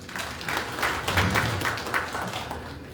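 An audience at an international forum in Mali applauds steadily, a dense wash of many hands clapping at moderate distance with no voices over it.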